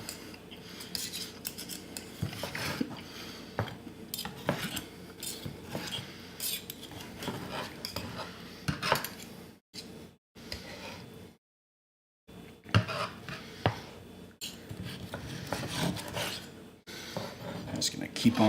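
A knife slices seared, salted steak on a cutting board for steak quesadillas, making repeated scraping and rasping strokes with light clinks, broken by a brief quiet pause midway.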